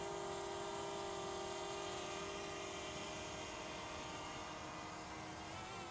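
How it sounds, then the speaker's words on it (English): A DJI Mavic Mini drone flying and translating sideways, producing a steady, high-pitched propeller whine with a constant buzzing hum, close and continuous, with no talk over it. "So we're moving the whole drone through space left."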